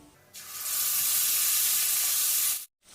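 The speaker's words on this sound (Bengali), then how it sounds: "কালো জিরা ফোড়ন দিয়ে দিলাম কালো জিরাটা এক সেকেন্ড মতন ভেজে নিয়ে এবার আমি যে পঞ্চাশ পোস্ত বাটাটা রেখেছিলাম বেটে ওই পোস্ত বাটা এখন আমি দিয়ে দিচ্ছি" Poppy seed paste goes into hot oil already tempered with nigella seeds and erupts into a loud, broad sizzle. It holds steady for about two seconds, then cuts off abruptly into silence.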